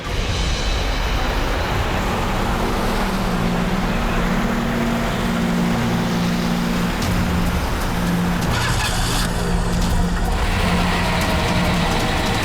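A car with cloth stuffed into its silencer drives past in a forest setting, its engine a continuous loud, rough roar throughout with a steady low hum and no talk.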